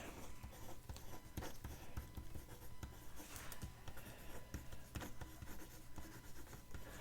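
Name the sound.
writing by hand on a journal page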